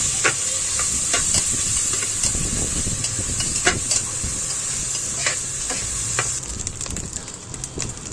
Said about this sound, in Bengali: মাংস আর কাঁচামরিচ পেঁয়াজ একসাথে দিয়ে হালকা লবণ দিয়ে ভাজা করে নিব।